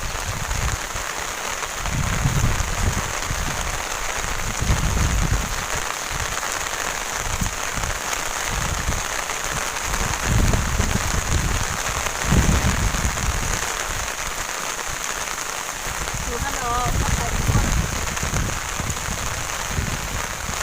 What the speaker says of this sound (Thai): ฝนดันมาตกค่ะทุกคน